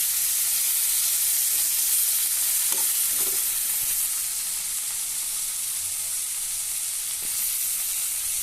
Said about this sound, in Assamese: এতিয়া বিলাহীটো অলপ ভালকৈ ভাজিব লাগে